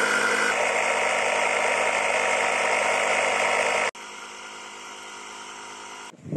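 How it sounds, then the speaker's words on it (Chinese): A steady, loud mechanical drone of an air pump inflating a Chery QQ car tire after sealant repair, running continuously, dropping in level partway through and cutting off near the end. "现在正在打气"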